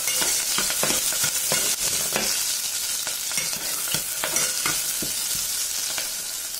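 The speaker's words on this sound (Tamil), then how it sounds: "அது நல்லா பொரிஞ்ச அப்புறம் கிரீன் chili" Green chili and curry leaves frying in hot oil, crackling and sizzling loudly and continuously up close, with sharp pops scattered throughout.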